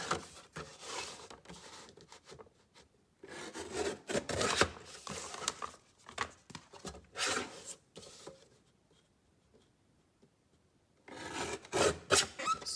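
Paper trimmed for a junk journal cover, heard as close rasping cutting and rubbing strokes in bursts, with a quiet pause before a final flurry of cuts.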